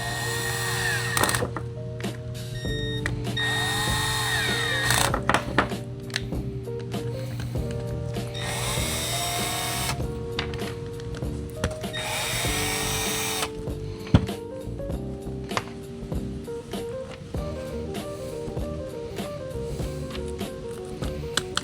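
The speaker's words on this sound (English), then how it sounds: "Go ahead and hit those screws all the way down." A power drill drives screws into battle belt parts in a workshop: repeated loud, close whirring bursts of a few seconds each, separated by short pauses and light clicks.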